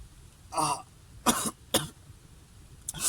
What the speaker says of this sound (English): if I'm coughing